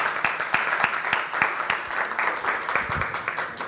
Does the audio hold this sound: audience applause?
yes